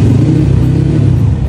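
A Honda CRF Scrambler trail motorcycle, revived after sitting for a year after being submerged, runs with a loud, steady, close engine drone and a rough clattering idle.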